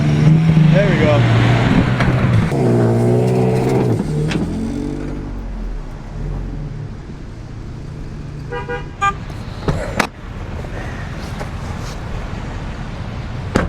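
Jeep engine revving hard while driving on beach sand, a loud rising roar that fades to a lower drone, with people talking over it.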